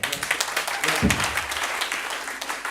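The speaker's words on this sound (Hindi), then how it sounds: "तालियां बजाएंगे" Seminar audience applauding throughout, a steady broadband wash of many hands clapping at moderate level with no talk over it.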